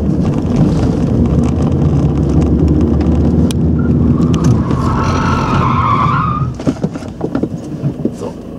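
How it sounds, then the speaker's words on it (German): A car oversteers through a curve during a driving lesson, its rear losing grip with a loud, sustained tyre skid squeal over steady engine and wind noise, then the noise drops and settles. "dass das Heck die Haftung verliert, also übersteuern."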